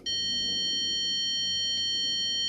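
Steady electronic buzzer tone from an Autel PS100 diagnostic tester, starting abruptly and holding continuously at even loudness, with a faint click partway through.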